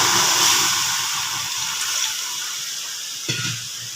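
Water is poured into salted semolina that has been frying in a pan, a steady close splashing and hissing stream that slowly eases, with a small clink near the end.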